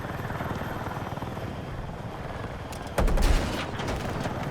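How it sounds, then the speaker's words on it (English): A helicopter flies in the Battlefield beta video game, its steady rotor chop close and continuous, with a burst of gunfire and louder engine roar partway through. "This person doesn't know how to fly a helicopter and I'm stuck in it with them."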